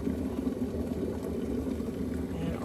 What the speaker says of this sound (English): And if you can hear it boil right now